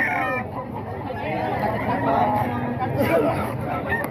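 A Dominator sweater gamecock rooster at a Bocaue market clucks among other chickens, heard under chatter and a busy market crowd with people talking nearby.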